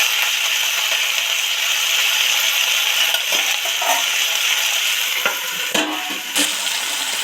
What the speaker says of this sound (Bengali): ঢেঁড়সগুলো তো নিবু আছে ডিপ ফ্রাই করে ভেজে নিলাম